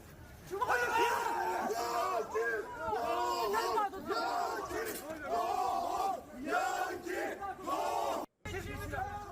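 An angry crowd in Izmir, Turkey, mobs two American soldiers, with loud, dense shouting and yelling that surges and dips in waves throughout before a brief break near the end.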